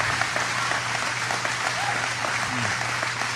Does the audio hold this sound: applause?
yes